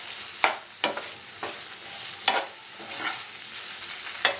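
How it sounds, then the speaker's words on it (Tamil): Fried prawns being stirred into an onion-tomato masala for prawn roast, a spoon scraping and clacking in sharp bursts over a soft steady sizzle, close and alone. "இப்போ நம்ம பொரிச்சு வச்சுருக்க ப்ரான்ஸை இதில் சேர்த்துருவோம். சேர்த்துட்டு நல்லா கலந்துக்கலாம்."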